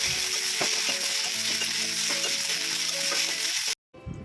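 Vegetables sizzle and crackle steadily in hot oil with a few scraping stirs, close and loud, until the sound abruptly cuts out near the end.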